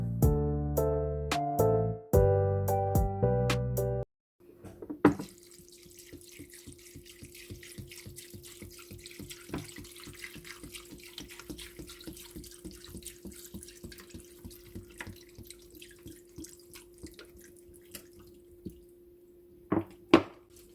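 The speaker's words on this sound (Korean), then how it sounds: "저는 찬물에 1시간 동안 불리겠습니다." After a few seconds of melodic tones, tap water runs into a bowl for soaking burdock noodles. The close, steady stream carries on with light splashes and drips to the end.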